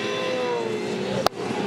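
Supercars race cars accelerate out of turn 12 onto the front straight at Winton, a high engine whine rising in pitch from a distance, with a brief sharp click near the end.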